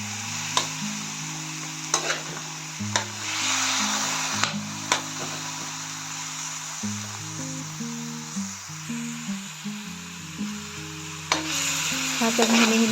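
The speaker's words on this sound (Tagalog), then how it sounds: "Hahaluin po muna natin tong ating chicken para maluto." Chicken cooking in a pot while being stirred, a continuous close sizzle broken by repeated sharp scrapes and knocks of the spoon against the pot at an irregular rhythm.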